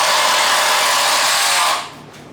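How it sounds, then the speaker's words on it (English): A power drill driving screws into a 2x4 wall frame in a garage, a loud steady whirring grind that holds for well over a second and then cuts off abruptly, leaving quiet room tone. "Big Ron might get loud for a second. He's putting some screws in."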